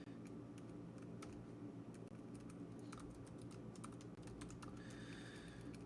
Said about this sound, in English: Typing will be the end of me at some point.